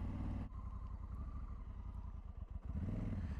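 A Honda Africa Twin Adventure Sports motorcycle under way in third gear, its engine a steady, fairly subdued drone with a rough, pulsing texture that eases briefly and then picks up again.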